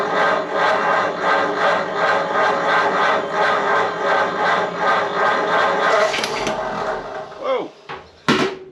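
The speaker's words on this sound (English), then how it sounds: "I'm going to crank it and see if it sparks." A 1937 Ford Taildragger engine cranks over with a steady, rapid rhythmic churning for about six seconds, then stumbles and stops, followed by a few brief sharp mechanical knocks.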